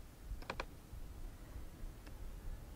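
A few quick clicks of a computer mouse on a toolbar button, a tight cluster of three near the start and one more later, close and faint over a quiet room hum.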